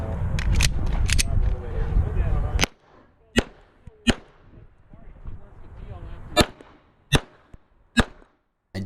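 Pistol shots at an outdoor USPSA match stage ring out as sharp, loud cracks, spaced irregularly after a noisy opening stretch with voices and handling sounds, roughly six distinct reports in total.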